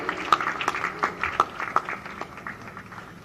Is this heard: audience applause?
yes